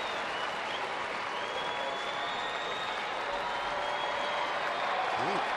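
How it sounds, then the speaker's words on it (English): A large baseball stadium crowd cheers and applauds steadily throughout, a broad roar with a few whistles rising near the end, at a San Diego at Arizona game. "Now the crowd with some hopeful noise"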